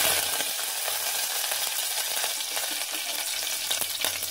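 Curry leaves hit hot oil in a pan for a tamarind curry with brinjal and drumstick, giving a steady, close, crackling sizzle with faint spattering pops throughout and no talking.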